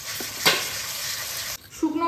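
Potatoes, onion paste and ginger-garlic paste sizzle and fry in a pan while being stirred, a steady crackling hiss with a few spoon scrapes and a brief pause near the end.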